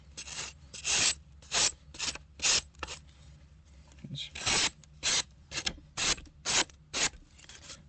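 A Giant Mouse Ace Grand knife slices through material in a cut test, making about a dozen close, rhythmic rasping strokes, each a short scraping whoosh followed by a brief pause.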